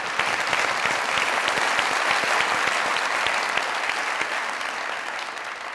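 Loud, dense audience applause in a comedy talk-show studio, steady clapping from a large crowd that fades slightly toward the end, with no talking.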